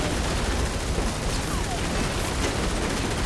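A busy wash of gunfire in The Matrix Awakens on PS5, continuous overlapping shots and impacts that blur into a steady, moderately loud roar.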